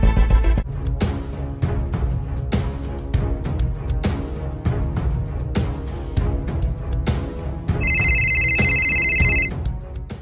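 A phone ringtone plays steadily for about ten seconds during an outgoing call, a repeating electronic melody with a brighter tonal burst near the end, with no talking over it.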